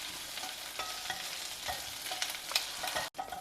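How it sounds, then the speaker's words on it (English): Fresh washed curry leaves fry over a low flame, crackling and sizzling continuously with bright spitting pops, ending in a brief dropout and clatter. "fresh curry leaves which have been washed well. Now fry this till they become nice and crisp."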